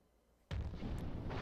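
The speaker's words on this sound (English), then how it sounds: "A Christmas cracker was pulled, and the sound rang out" A single sudden pop from a Christmas cracker in the visual novel Umineko, an abrupt loud burst after quiet, followed by a lingering noisy rumble.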